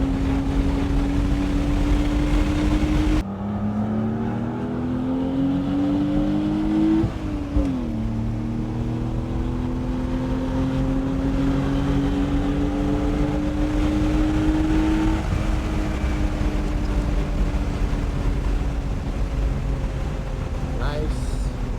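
A Porsche race car engine at Sonoma Raceway roars loudly and steadily at close range, its pitch rising through the gears with brief shifts and lifts, under occasional wind noise.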